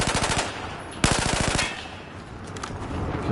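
Rapid automatic gunfire in Battlefield 4, two close, loud bursts of fast evenly spaced shots, the second burst sharper and harder, trailing into a fading echo with a few faint distant pops.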